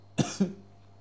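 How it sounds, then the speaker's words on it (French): Two quick, harsh coughs close to the microphone, the second slightly softer, followed by quiet. "Je sais pas pourquoi je tousse en ce moment."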